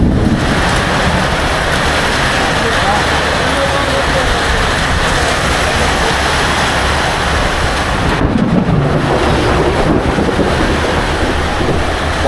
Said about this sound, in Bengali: বিভৎস জোরে বৃষ্টি চলে যাবে